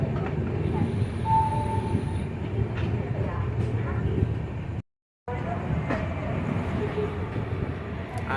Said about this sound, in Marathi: Madgaon junction, yes finally.